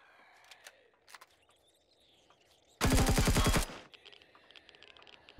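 A loud, tight burst of rapid gunfire lasts under a second in an abandoned factory in Empyrion Galactic Survival, with quiet clicks and soft game ambience before and after.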